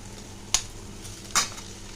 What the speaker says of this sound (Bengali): তো এবার দিয়ে দেবো ডিমটা